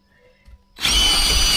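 A power tool drives Camo hidden deck fasteners through milled white oak boards into a joist: a quiet handling pause, then a sudden loud, sustained whirring drive close by.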